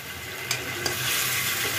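Mushroom pakoras with onion and capsicum fry in a pan, giving a steady close sizzle with a couple of brief clinks of stirring and no talking.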